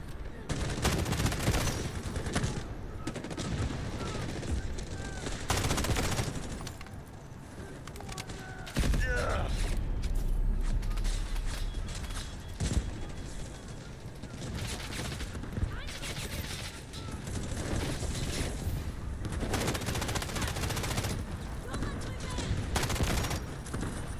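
Gunfire from a K416 rifle in the Delta Force shooter game comes as dense, loud bursts and fusillades through most of the stretch, with brief gaps between volleys.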